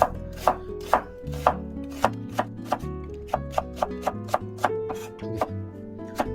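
Knife slicing through an onion on a cutting board: crisp, evenly spaced chops, roughly two per second, close and clear over steady background music.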